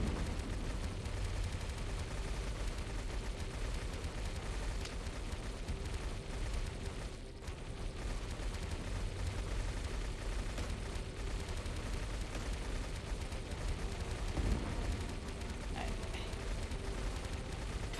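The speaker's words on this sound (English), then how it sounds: "here I am with just the fires of hell fired from holy missile launchers" Missile launchers firing in a video game, a dense continuous roar of rapid blasts and explosions filling the whole stretch at steady loudness, with a few sharper bursts standing out.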